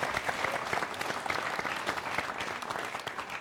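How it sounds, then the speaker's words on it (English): Audience gives a round of applause for the Minister at an energy week event, dense continuous clapping from many hands, fairly faint and distant, steady throughout. "So a hand of applause for the Minister again, please."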